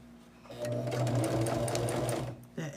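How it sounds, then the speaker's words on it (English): A sewing machine back-stitches along a seam of a quilted bag, running in a loud, fast, steady mechanical whir for about two seconds before stopping, with a brief rattle after. "Okay, run back over. Again, I'm just back stitching"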